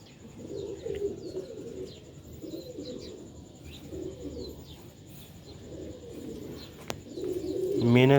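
Roof pigeons of an old Sialkot breed coo in repeated low, throaty phrases at a steady rhythm, fairly close, with faint chirps from other birds around them.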